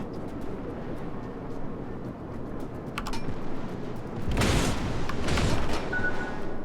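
Naval guns firing in the World of Warships video game as a cruiser engages, a steady rumble of distant booms swelling into a louder, denser salvo of blasts in the second half.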